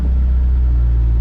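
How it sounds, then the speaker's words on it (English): A Honda/Acura car fitted with Maxpeedingrods adjustable coilovers drives along with a loud, steady low road rumble and engine drone, unbroken throughout. "lower the car, and let's take it for a drive"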